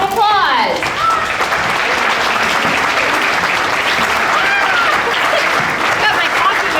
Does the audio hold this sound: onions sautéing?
no